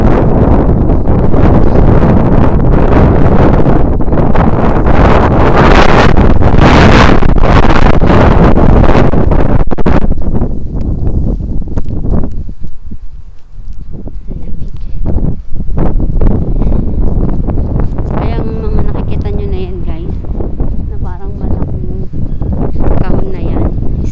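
Strong wind on a village street in Japan buffets the microphone in a loud, continuous roar that eases slightly partway through, with faint speech beneath it.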